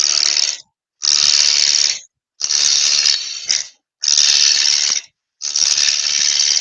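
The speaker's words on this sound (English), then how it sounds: "all I'm going to do is roughing down with a spindle roughing gouge from the center out to the edge" A wood lathe spindle being roughed down with a spindle roughing gouge, five loud bursts of rattling, chattering cutting noise, each about a second long and separated by short silent gaps, close by.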